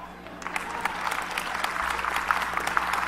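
Church congregation clapping during a sermon, a loose, moderately close round of applause that builds after a brief quiet start and continues with scattered crowd noise underneath.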